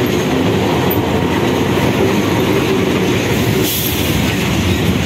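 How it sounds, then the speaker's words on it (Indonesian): Sancaka passenger train hauled by a CC206 diesel locomotive, a loud continuous roar of engine and wheels on rails passing close by, with faint clickety-clack and a brief squeal, no voices. "Kereta api Sancaka dengan lokomotif dinas CC206-1336 Debeluk Sidotopo."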